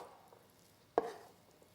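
A single knife chop sounds on a board as a basil, sun-dried tomato and garlic stuffing paste is worked, one soft thud in an otherwise quiet moment.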